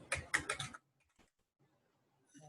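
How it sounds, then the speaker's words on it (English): Quick bursts of keystrokes on a computer keyboard while entering a number into a spreadsheet, close and crisp, followed by a single later keypress and near silence. "So now I will type here 10"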